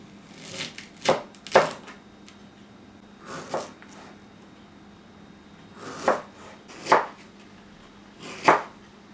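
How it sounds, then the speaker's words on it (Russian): A knife slices through a pear on a board for a salad, giving five or six separate crisp cuts spaced unevenly over several seconds against a quiet background. "Затем нарезаем нашу грушу."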